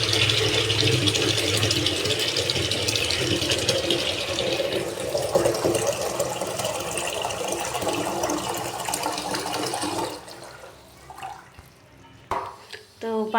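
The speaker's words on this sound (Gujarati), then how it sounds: "દિશાંત માટે પાણી ગરમ કરવા મૂકી દઈએ." Tap water pours steadily into a cooking pot set to heat in a village home kitchen, a broad rushing stream that runs loud for about ten seconds before cutting off, followed by a few clinks and quieter sounds.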